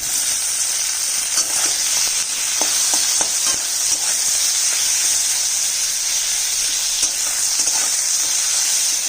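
Sliced onion and tomato frying in a pan, a loud steady sizzle with scattered clicks of stirring running the whole time, no voices.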